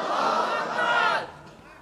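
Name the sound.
crowd shouting takbir (Allahu Akbar) in response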